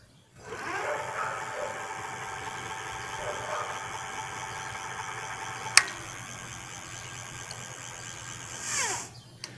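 Coppel electric bicycle accelerating with a rising high whine and hiss from the hub motor, steady throughout with a sharp click partway and a brief swell near the end.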